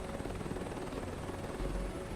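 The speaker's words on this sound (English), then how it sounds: "But we are here to see how it reacts to the helicopter now." A helicopter in Microsoft Flight Simulator 2024, near oil rigs, gives a steady, even rotor and engine drone throughout, with no talking.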